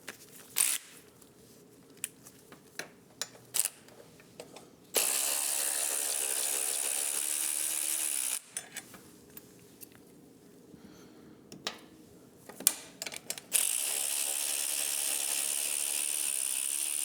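A ratchet with a 12mm socket loosens brake bolts on a 2024 Triumph motorcycle, giving quiet, quick clicking bursts between two long, louder stretches of steady ratcheting, with no talking.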